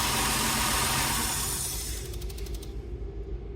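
A car engine idles steadily and then sputters and dies after its MAF or MAP sensor signal wire is shorted to ground. The steady hum fades into a few uneven shudders before stopping.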